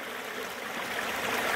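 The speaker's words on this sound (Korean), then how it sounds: "자, 계곡 물소리 들으면서 오늘 인사드리는데요" A mountain valley stream swollen after several days of rain flows steadily, a dense close rushing and burbling of water that holds even and continuous throughout, with no voices.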